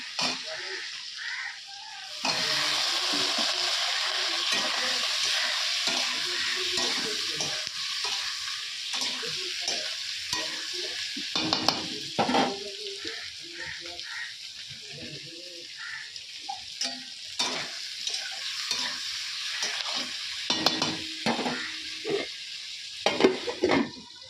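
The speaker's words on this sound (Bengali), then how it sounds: "পেঁয়াজ লঙ্কা তেজপাতা সাদা জিরে দিয়ে দিয়েছি" Onion, green chilli, bay leaf and cumin fry in a pan, a steady close sizzle broken by repeated scraping stirs and clinks of a utensil against the pan.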